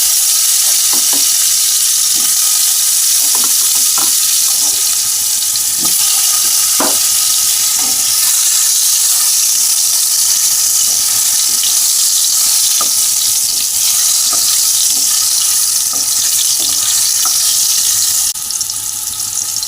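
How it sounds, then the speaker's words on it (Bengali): Marinated potatoes fry in hot oil for a Bengali-style chicken curry, a loud, dense, continuous sizzle with scattered crackles and occasional stirring clinks, close up and with no talk. "তো এই আলুগুলো আমি ভেজে নেব ভালো করে।"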